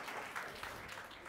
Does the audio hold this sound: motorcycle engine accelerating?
no